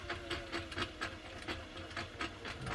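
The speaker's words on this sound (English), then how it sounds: "the hand wheel can spin and wind the bobbin without making the rest of the machine cycle" A Singer 404 sewing machine winds a bobbin with a steady mechanical whir broken by rhythmic clicking and ticking at a moderate pace, close by and running alone.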